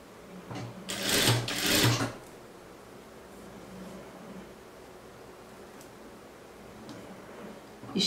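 A sewing machine stitches a blouse seam in one short, loud burst of rapid running stitches lasting about a second, followed by quiet background hiss and a few faint ticks.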